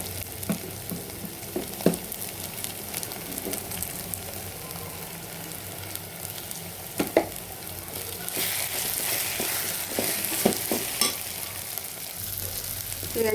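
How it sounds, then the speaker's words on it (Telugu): Chili powder frying in oil in a pan of brinjal and salted fish curry, a continuous crackling sizzle broken by sharp spoon-on-pan clicks and scrapes from stirring, growing louder and hissier in the second half. "ఇదండి కారం వేగిపోయింది."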